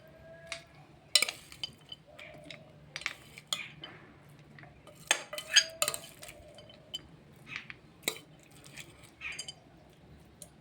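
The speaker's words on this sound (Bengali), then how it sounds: "আমি প্লেটে সব বেড়ে নিচ্ছি" Churmur snack being served onto a plate, scattered clinks and clatters of a spoon against the plate and utensils, a couple of sharper knocks among quieter scraping.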